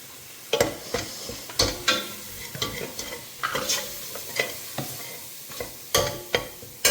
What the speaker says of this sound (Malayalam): ഇഞ്ചിയും ഉള്ളിയും എല്ലാം കൂടെ നല്ലപോലെ മൂത്ത് കഴിയുമ്പോഴത്തേന് ആണ് നമുക്ക് മറ്റുള്ള ഇട്ട് കൊടുക്കുന്നത്